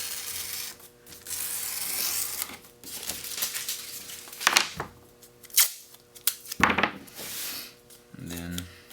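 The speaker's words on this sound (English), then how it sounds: "Just going to trim off the excess here." Excess material being trimmed off a bent acoustic guitar side, giving a few short scissor-like snips and cutting crunches at close range amid quiet shuffling.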